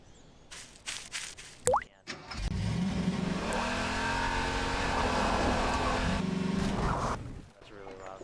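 A car engine in the Garry's Mod video game revs up loudly and holds a steady, droning rev for several seconds before cutting off, preceded by brief clicks and a short whoosh.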